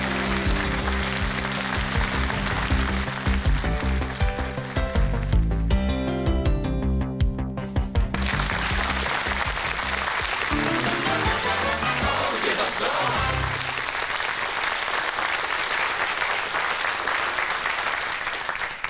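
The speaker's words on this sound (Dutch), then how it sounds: "Applaus voor Bert." A studio audience on a Dutch TV science quiz applauds for a contestant, a loud, dense and steady clatter lasting the whole stretch, with music playing underneath.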